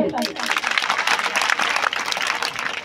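A program audience bursts into close, lively applause, with uneven surges of clapping over a few seconds and voices mixed in.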